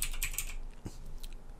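Quiet typing on a computer keyboard: a quick burst of several keystrokes at the start, then a few sparse, isolated clicks in a quiet room.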